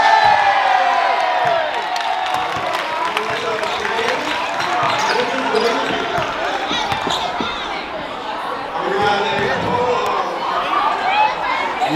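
Audience in a school gym cheers and whoops with crowd chatter and scattered clapping, a busy continuous din with basketball bounces heard among the noise.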